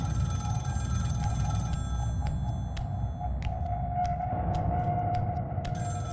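A phone rings in the video game Scream: The Game as a steady electronic tone that repeats, heard faintly over a constant low rumble with scattered clicks.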